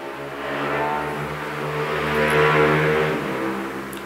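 A motorbike passes by, its engine hum swelling to a peak midway and then fading as it moves off, heard alone with no talking.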